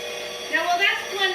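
A kitchen blender whirs through ricotta cookie batter, a steady high motor drone with shifting pitch as the load changes. Speech runs over it.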